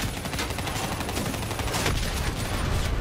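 Sustained rapid gunfire in Call of Duty: Black Ops III, aimed at a hovering VTOL aircraft during a hangar battle, a dense continuous barrage of shots filling the whole stretch with no pauses.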